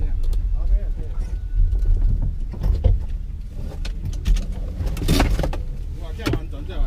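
A car with a stuck throttle cable roars on a race track beside a grassy verge, its engine noise continuous and rough while people talk over it.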